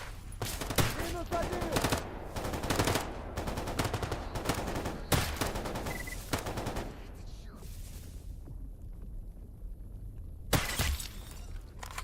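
Bursts of gunfire from the video game STALKER GAMMA crack out in several rapid volleys, some quick repeated shots and others single sharp reports, with a lull of quieter ambience between them.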